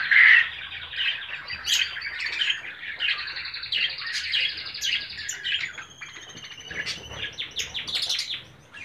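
Budgerigars kept in a colony aviary chirp and warble continuously, a dense overlapping chatter of many birds with bright trills and squawks, close and lively with no talk.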